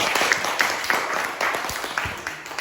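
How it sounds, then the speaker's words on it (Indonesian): A classroom of students applauding together, a dense, continuous patter of many hands clapping at moderate loudness, with a few voices mixed in. "Tepuk tangan dulu yuk."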